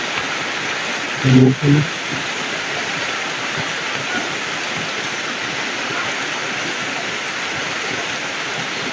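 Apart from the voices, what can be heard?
heavy rain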